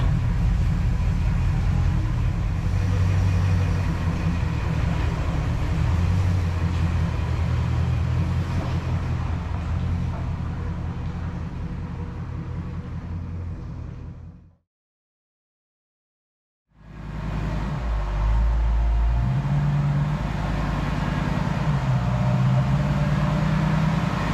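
A 1969 Plymouth Fury III engine hums and rumbles steadily from inside the car while driving, cutting out briefly partway before the low drone resumes.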